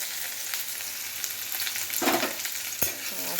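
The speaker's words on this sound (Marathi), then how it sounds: "आता कांदा परतून घ्यायचा" Onion and curry leaves sizzle and fry steadily in a hot pan, a continuous close crackle with a brief louder stir-scrape burst near the end and no voices.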